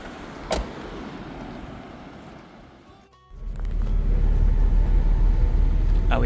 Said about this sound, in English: drive the second part of the crossing